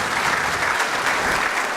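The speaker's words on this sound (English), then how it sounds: "let's give them a round of applause" An audience at an apprenticeship awards night bursts into thick, continuous clapping, a brief wall of applause with no voices rising above it.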